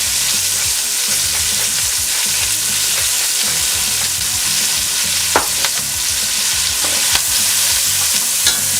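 Medium white onion sautéing in a hot pan with a little seasoning for beef rib birria tacos, a loud continuous sizzle with scraping stirs and a few sharp clicks, no voices.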